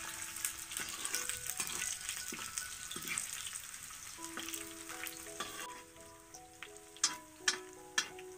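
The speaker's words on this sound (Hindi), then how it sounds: "और पूजा का छौंक हो चुका है अच्छे से," Steady sizzling and crackling of spices tempering in hot oil for potato kadhi, with light clinks and a few sharp taps from utensils toward the end.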